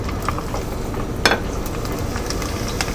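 Cod pieces deep-frying in a fryer of moderately hot oil give a steady, dense crackling sizzle, close and continuous, with one brief sharper clatter partway through.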